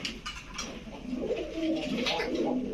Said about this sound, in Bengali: দর্শক এটা হচ্ছে লাল মুসলদম নরকবুতর পুরান জাতের